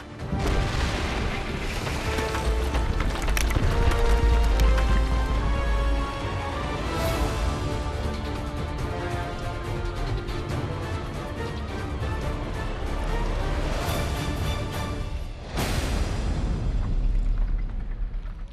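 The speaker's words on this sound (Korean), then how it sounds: "연달아 터져나오는 폭발음과 함께 크고 작은 돌덩이도 쏟아져 나온다." Dynamite blasts at a 400-ton stone hill quarry go off in loud, rumbling booms, with two sharp bursts standing out amid continuous crashing and rattling of falling rock and debris.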